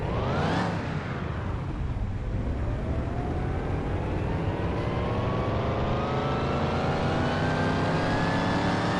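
A V8 Salem engine in Car Mechanic Simulator 2021 revs hard on a dyno, a loud continuous roar that drops back briefly and then climbs steadily in pitch for several seconds.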